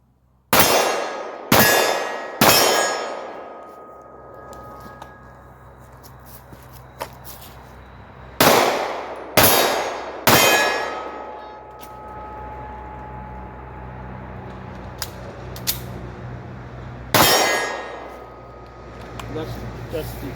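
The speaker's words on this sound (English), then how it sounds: "That's, that's the two-handed shooting" Pistol shots ring out in a two-handed shooting drill: three sharp cracks in quick succession, then a pause, three more, and a final single shot, each loud and echoing briefly.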